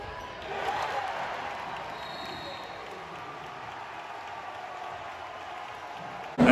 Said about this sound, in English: I was not expecting the student section to be this loud.